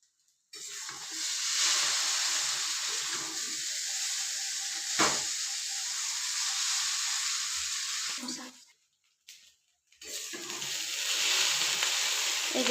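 Chow mein sizzling and hissing loudly in a hot pan after a splash of soy sauce, steady frying noise with a brief drop to near silence before the sizzle returns.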